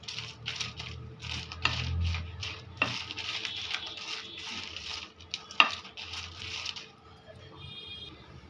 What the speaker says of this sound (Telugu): ఈ విధంగా మిరపకాయలను బాగా వేయించుకోవాలి అవి కటకట అనేటట్లు వేయించుకోవాలి